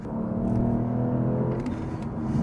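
Lexus GS F engine revving hard at high RPM, a loud, sustained, steady engine roar with strong low harmonics that holds throughout from inside the car.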